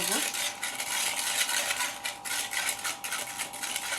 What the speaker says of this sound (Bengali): এই যে আমি সুন্দর করে আগে মিলিয়ে নেব